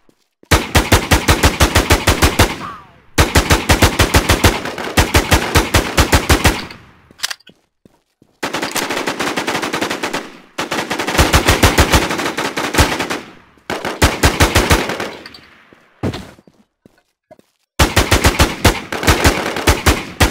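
Automatic gunfire in the video game Infestation, long rapid bursts of shots fired one after another with short silent gaps between them, very loud and close, no talking.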